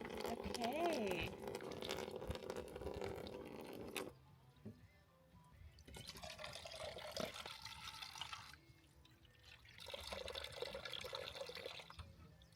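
Water running from a portable camping faucet while dishes are done at a campsite without hookups, flowing in bursts that start and stop several times, fairly close and quiet.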